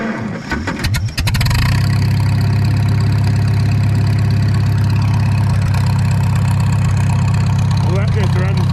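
A car engine, a Super W-6, during a cold start at about minus 4 or 5 Celsius catches after brief cranking and settles into a steady, loud, close idle hum.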